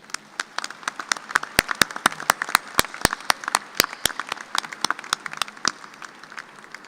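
A graduation audience gives a round of applause, with scattered, crisp hand claps that start thin, build into a busier patter, then thin out again.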